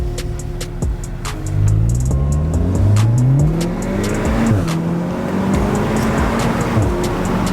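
A stock Mk7 Golf R with 296 bhp and 380 Nm accelerates hard, its engine revving up through rising sweeps with gear-change dips between them, loud and close.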